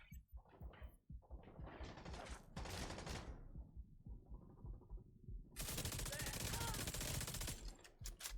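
Bursts of gunfire from The Division 2, loud automatic volleys in uneven clusters with brief gaps, ending in a sustained heavy stretch of fire.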